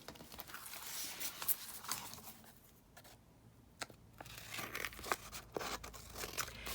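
Crinkling and cutting of paper or material being snipped off at an edge while tidying a desk, a run of close, irregular crisp crunches and tears with a brief quieter gap midway.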